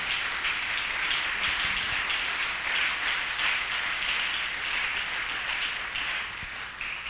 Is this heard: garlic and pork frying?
no